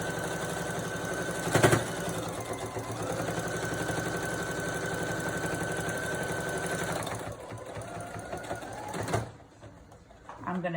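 A sewing machine runs close by, stitching around the edge of a fabric mask with a steady whirring hum for several seconds, then slows and stops. A short clunk comes near the start and some faint talk follows at the end.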